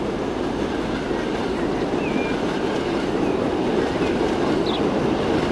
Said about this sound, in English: I hear another train coming in, I think.